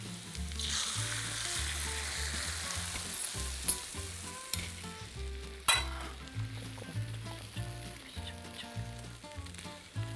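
A Spanish omelette sizzles and fries in a pan, a constant crackling hiss with occasional louder pops and stirring scrapes, close and moderate in level with no talk.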